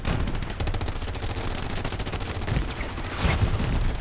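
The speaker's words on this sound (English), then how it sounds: "There's just so many explosions." Dense, continuous gunfire and repeated explosions from a WWII video game battle at Utah Beach, with infantry fighting around a trench and a Tiger tank, loud and layered throughout with heavier blasts near the end.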